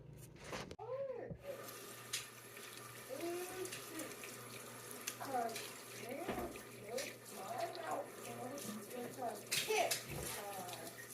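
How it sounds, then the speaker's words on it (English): Water runs from a kitchen tap while beets are rinsed in the sink, a steady close splashing stream that continues under intermittent speech from an adult and a child. "I'm going to clean them up, just rinse them off."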